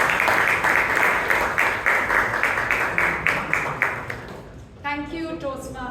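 A Toastmasters club audience in Bangalore gives rhythmic, fairly loud applause for table topic speakers, the clapping fading out as a voice begins speaking near the end.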